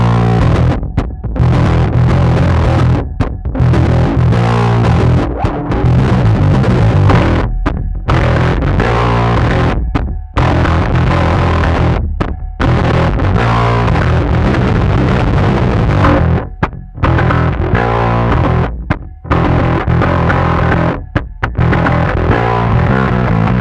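Heavily distorted bass guitar plays a driving riff through high-gain overdrive, thick and loud with brief gaps between phrases, no voices.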